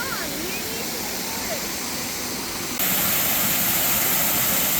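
North Harper Creek Falls in Pisgah National Forest, North Carolina, pours as a steady broadband rush that suddenly grows louder and brighter partway through, with faint voices near the start.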